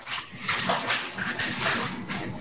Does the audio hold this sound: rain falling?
no